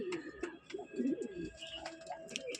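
Pigeons in a loft coo in soft, throaty bursts, several overlapping calls close by, with faint chirps and light rustling between them.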